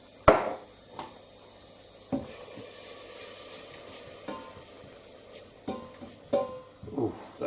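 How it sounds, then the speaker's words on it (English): Chili and garlic sizzling in a pan, a soft steady frying hiss beneath clattering stirs and scrapes of a utensil against the pan, heard close without talk. "Let those start sizzling off a little bit."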